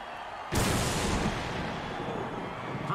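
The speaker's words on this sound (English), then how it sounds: "Oh, crowd's loving it." A crowd in an American football video game erupts into a loud, sustained roar after a sudden onset, holding steady and dense to the end.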